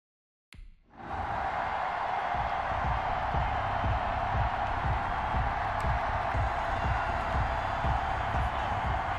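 Stadium crowd in Madden NFL 21 before a New York Jets versus Tennessee Titans game, a loud continuous roar of cheering that surges in after a brief quiet start and holds steady.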